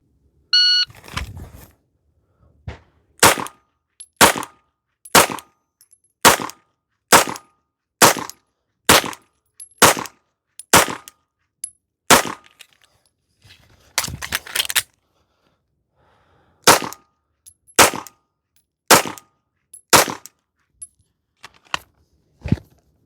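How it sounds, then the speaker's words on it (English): Fourteen pistol rounds fired at a target at seven yards after a draw, sharp isolated cracks spaced about a second apart in two strings with a short pause between, loud and close against otherwise quiet range air. "We will draw and put 14 rounds on target with a par time of 45 seconds."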